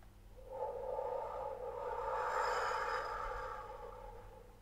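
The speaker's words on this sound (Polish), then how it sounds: "Rób wdech nosem i długi, głośny wydech ustami." One long, loud exhale through the mouth during meditation breathing swells and fades over a few seconds as a soft, airy whoosh against a faint background hum.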